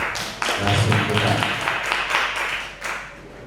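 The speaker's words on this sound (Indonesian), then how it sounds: "tepuk tangan dulu buat" An audience applauds at an Indonesian seminar on positive culture, steady clapping from a crowd nearby that swells early and keeps going with sharp bursts throughout.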